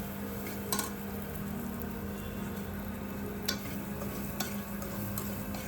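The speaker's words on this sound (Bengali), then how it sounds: "এই মশলাটাকে একটু কষিয়ে নেব হালকা পানিও দিব অল্প জিরা দিয়ে দিলাম" Homemade spice paste with a little water and home-ground cumin cooks in a pan, giving a steady low sizzle and faint stirring scrapes with a few sharp clinks of a utensil against the pan.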